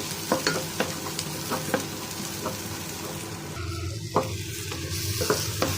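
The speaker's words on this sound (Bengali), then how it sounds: "পাতিল বসিয়ে দিলাম, তেল গরম হয়ে গেছে, পেঁয়াজগুলো দিয়ে দিছি।" Onions dropped into hot oil in a pot for a sweet pumpkin stir-fry, a close bubbling sizzle broken by sharp scraping stirs and clinks, louder and denser near the end, with no talking.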